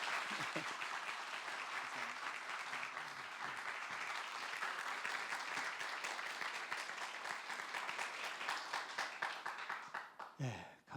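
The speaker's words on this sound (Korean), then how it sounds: "우리 선교사님 나오실 때 우리 박수로 크게 환영하도록 하겠습니다" A church congregation claps in welcome as a missionary comes up to the pulpit, a dense, sustained round of applause that carries for about ten seconds before trailing off, with a little speech near the end.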